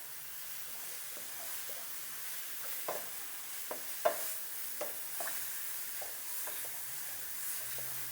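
Cauliflower fried rice with leftover steak is stirred in a hot pan, a soft steady sizzle with scattered scraping clicks from the utensil, quiet and close with no talking.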